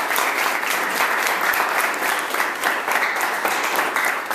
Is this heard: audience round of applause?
yes